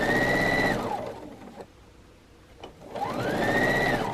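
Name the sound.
sewing machine stitching quilt block pieces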